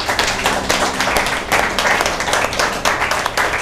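A church congregation claps and applauds in praise of the Holy Spirit, a dense, loud, continuous patter of many hands with brief swells, close and filling the room.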